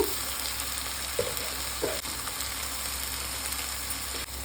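Masala with grated coconut frying in a pan for a chicken curry, giving a steady close sizzle with a few brief stirring scrapes and no voices.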